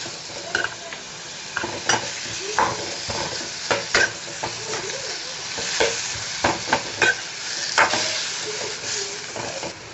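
Tomato and green chilli sautéing in a hot pan, a constant sizzle and hiss broken by frequent scraping, stirring strokes and light clatter of a spatula against metal.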